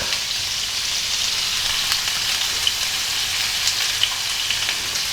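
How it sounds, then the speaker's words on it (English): Pork, 250 grams of it, sautéing in extra virgin olive oil for a ragù alla bolognese, with a steady, close sizzle and faint crackles throughout and no talk. "use extra virgin olive oil as my oil of choice for sauteing. That's 250 grams of pork."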